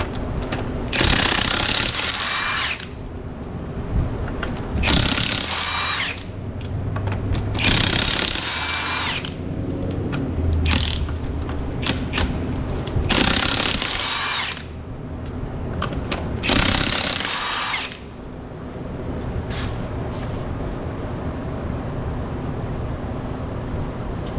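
Five 22mm lug nuts are removed from a Dodge Challenger front wheel with a power tool, giving loud repeated bursts of whirring and rattling, several separate runs spaced by short pauses, close to the microphone with no talk.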